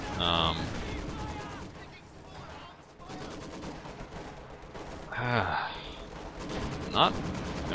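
Game gunfire in a Company of Heroes 2 match, with bursts of small-arms and machine-gun fire popping over a busy battlefield mix, sharper cracks near the end and a commentator talking over it.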